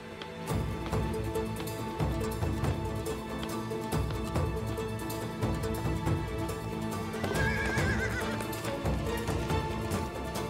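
Horses neighing and hooves clopping in a historical drama, loud continuous clattering hoofbeats with a shrill whinny rising near the end, thick and close throughout.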